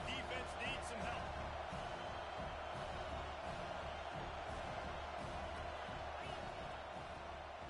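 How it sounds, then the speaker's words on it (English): A football stadium crowd at a Miami game rises and cheers, a broad roar with scattered whoops that runs steadily throughout, with a commentator talking over it. "This crowd rising up, sensing that its defense needs some help."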